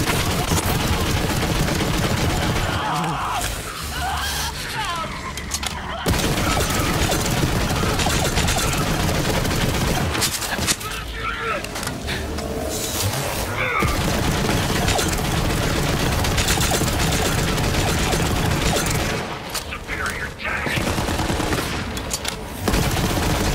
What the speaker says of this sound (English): check out the way this shoots. You wind this thing up people, how amazing is that?